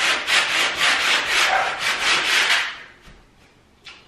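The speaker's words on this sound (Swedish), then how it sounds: "Så nu ska jag bara slipa dem och sen spackla" Sanding filled holes in a bedroom wall by hand, a series of rapid rhythmic rubbing strokes close up, then fading to near silence with one last brief scrape.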